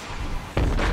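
A rocket blast in a competitive match of a video game goes off at close range, a sudden loud boom cutting into steady background noise and lingering for a moment.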